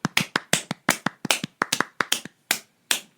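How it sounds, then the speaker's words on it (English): Light applause made by a few hand claps, a quick uneven run of about fifteen close, crisp claps that thin out toward the end, with no voices. "Just add an applause. You know, light applause."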